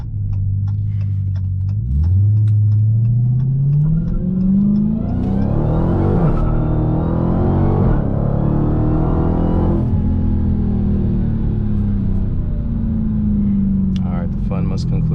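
Supercharged engine of a 2019 Dodge Challenger Hellcat accelerating hard through rising gear pulls with a deep loud roar and supercharger whine inside the cabin, with talking at times.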